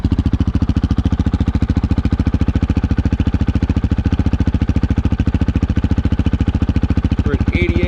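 A Honda CRF450L dirt bike fitted with a Yoshimura RS4 quiet exhaust idles with a steady, rapid thumping pulse, close and loud, holding an even rhythm throughout with a brief voice near the end.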